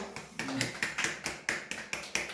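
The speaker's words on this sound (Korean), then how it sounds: "일단 박수." A few people clapping in slow, separate sharp claps at a Korean university admissions celebration, about nine distinct claps over two seconds, fairly close and quiet.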